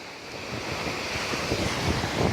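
Atlantic Ocean waves rolling in under gusty wind, a continuous close surf wash with swelling, rhythmic surges and buffeting wind on the microphone.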